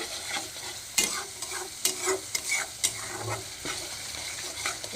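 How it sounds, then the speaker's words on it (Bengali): Masala and ground turmeric fry in oil for dhaba-style chicken curry, giving a close, continuous sizzle. Rhythmic scrapes and knocks of a spoon stirring against the pan sound throughout, with no talking. "এই মশলার সঙ্গে এইটাকেও খুব ভালো করে কষিয়ে নেব একদম তেল বেরোনো পর্যন্ত"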